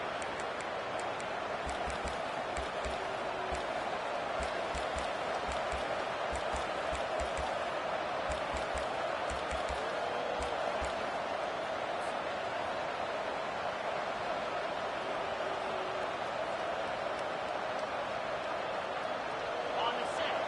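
College football stadium crowd at a Virginia Tech at Louisville game roars in a steady, sustained wash of distant cheering and noise, with a bouncing thud pattern faintly audible beneath.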